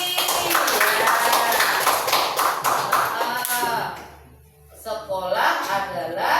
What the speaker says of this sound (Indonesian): Ini tepuk tangan untuk Mbak Ipi.